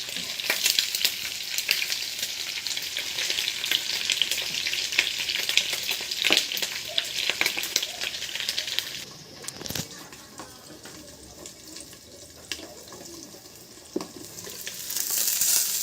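Chicharon (pork rinds) crackling and sizzling in hot oil in a wok, a steady close bubbling hiss with scattered pops, easing to a quieter simmer midway before swelling again.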